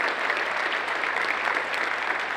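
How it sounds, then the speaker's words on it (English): An audience at a cosplay competition applauds, a dense, steady clapping from a full crowd that carries on evenly throughout. "Let's give a big round of applause for them."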